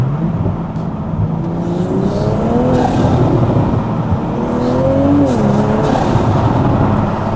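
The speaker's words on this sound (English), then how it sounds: "You do really get a proper nice tone with the titanium system though." A Toyota GR Supra fitted with a titanium exhaust drives at night, its engine tone rising and falling through a couple of smooth revs, heard from inside the car as a steady, fairly loud drone.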